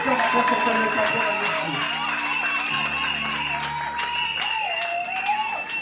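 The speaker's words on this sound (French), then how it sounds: "Est-ce qu'on peut acclamer pour notre pasteur titulaire de l'église?" During an ordination service at Église Nouvelle Alliance, a church congregation applauds its pastor with continuous, energetic clapping and some cheering, mixed with voices and a sustained tone.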